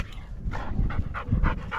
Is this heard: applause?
no